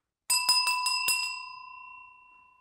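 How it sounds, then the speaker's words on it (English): Hand bell rung to spiritually cleanse a room: five quick bright metallic strikes close by, leaving a clear ringing tone that fades slowly, with no voices. "So we're just going to go around and bell."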